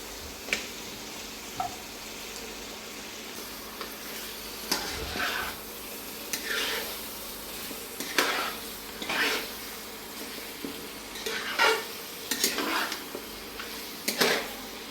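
Country chicken meat stirred into spice paste frying in oil, with an even sizzle beneath it and repeated scraping and clanking of a utensil against the pan in irregular bursts.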